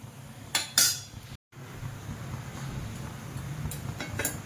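Stuffed bitter gourd curry stirred in a pan, with a few quiet clinks of a utensil on metal near the start and again near the end over a low background hum.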